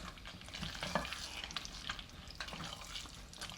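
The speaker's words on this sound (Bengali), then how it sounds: "আমি এখন এর মধ্যে চিকেনটা দিয়ে দিচ্ছি।" Chicken just dropped into cooked spice masala sizzles and hisses steadily in a pan, with soft stirring scrapes, close and fairly quiet, with no voices.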